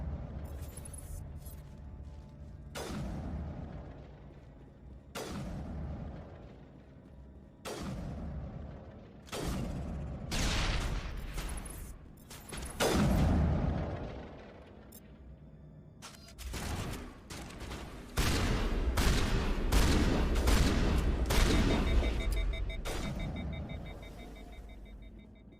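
Gunfire in the video game Mass Effect, sharp shots and short bursts spaced irregularly across a quiet firefight, some louder and closer, with a dense stretch of rapid fire toward the end.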